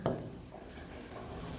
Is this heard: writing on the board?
yes